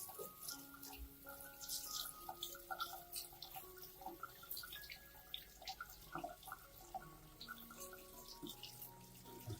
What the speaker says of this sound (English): rinse the entire plant with clean water to remove dirt, bacteria, and impurities from the roots and leaves